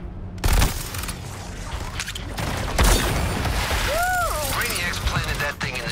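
A giant cannon fires in the Suicide Squad: Kill the Justice League video game, with heavy booms and blasts, mechanical clatter and sweeping electronic whines, under talk.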